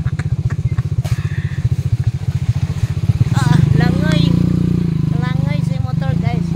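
A motorcycle crosses a muddy stream on a farm road, its engine chugging in a rapid, loud, close pulse that rises into a strained revving, with water sloshing and a voice talking over it.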